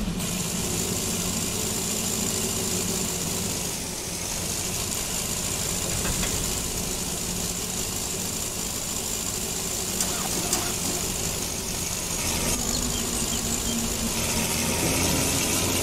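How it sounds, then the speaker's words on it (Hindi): An old tractor engine idles steadily in the Farming Simulator 22 video game, a continuous loud low rumble with a constant mechanical hum and no pauses, heard alone without talk. "मैंने गलती से ट्रैक्टर स्टार्ट कर दिया"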